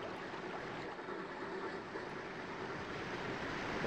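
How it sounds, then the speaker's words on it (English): Loud, steady rushing of rapids or a waterfall in Trainz Simulator on the Murchison route, a dense broadband wash of water noise holding constant from start to finish with no breaks. "Waterfall is quite loud."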